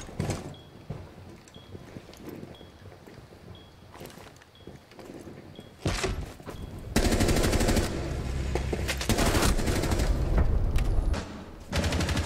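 Rainbow Six Siege gunfire: scattered single shots and footsteps early on, then a sustained, loud close burst of automatic fire with rapid repeating cracks dominating the second half.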